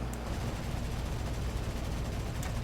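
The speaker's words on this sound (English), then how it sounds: "So we only have 16 cannon rounds on one of them." Dense, continuous gunfire from an F8F Bearcat's cannon and machine guns in a combat flight video game, a steady loud roar of rapid shots with no talking.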